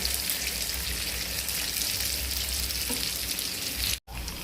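Kara paniyaram batter frying in oil in the cups of a paniyaram pan, a dense, even crackling sizzle heard close and unbroken, with one brief dropout near the end.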